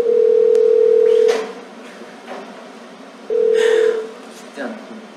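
Phone ringback tone while a call is redialed, sounding in two long steady beeps with a pause between, loud and close, followed by faint background sounds.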